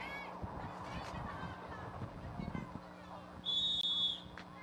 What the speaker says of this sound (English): First whistle has been sounded to initiate pull